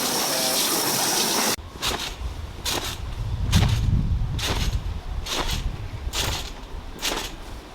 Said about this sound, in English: let's hose that baby down